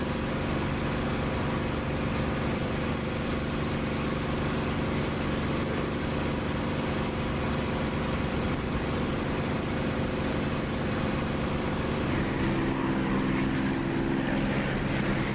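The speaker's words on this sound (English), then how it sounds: "This is the Echo 19 Spitfire engine sound, it's brilliant." Supermarine Spitfire engine in the DCS flight simulator game, a steady loud droning piston roar with a low throbbing rumble, holding continuously for the full stretch and shifting in tone near the end.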